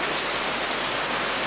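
A sudden downpour in the Lisu village of Yingjiang, a dense, even hiss of heavy rain close by with no break.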